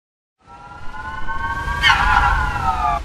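Police car siren in Grand Theft Auto Vice City, a steady wailing tone that starts after a short silence and swells louder partway through over low engine rumble.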